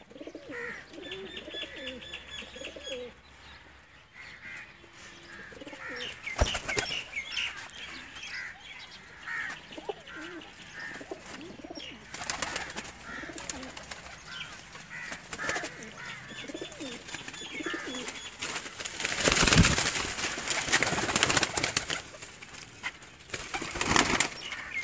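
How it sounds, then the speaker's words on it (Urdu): Ferozpuri pigeons coo in soft, repeated guttural phrases, with close wing flutters and some other bird calls in a fairly quiet outdoor setting. "یہ فیروز پوری کبوتر وہ کہہ رہے ہیں"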